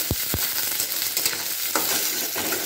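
Onion, garlic and green chili fry in a hot pan while a spoon stirs them, giving a steady close sizzle with a few sharp scraping knocks near the start.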